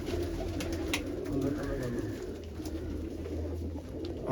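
Large pigeons cooing in a loft, soft low rolling coos repeating under a constant hiss and hum of background noise, fairly faint.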